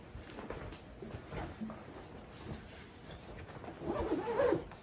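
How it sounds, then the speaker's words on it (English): A zipper is pulled shut around a transport case for an Alesis Strike Pro SE electronic drum kit, a steady close scraping of the zip ending in a louder burst at the end. "Zips right up."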